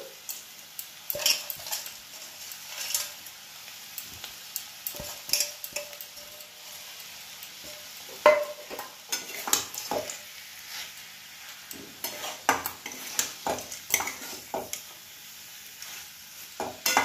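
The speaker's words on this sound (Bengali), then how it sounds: "এবার আমি বড়ি ভাজাটা দিচ্ছি, গুঁড়ো করে নিয়েছি একটু।" Crushed lentil dumplings (bori) fry in a pan with a steady sizzle, broken by frequent scraping stirs and sharp clinks of a utensil against the pan. No voices are heard.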